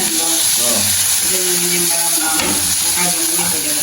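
Tomatoes frying in a pan for a Friday Kanda Sashti fasting meal in Jaffna, giving a steady, close sizzle with stirring scrapes throughout and faint voices in the background.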